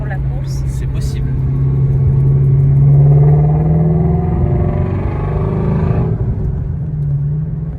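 A Shelby car cruising along a smooth country road, its engine a steady low rumble that swells slightly and eases off, heard from inside the cabin while people talk.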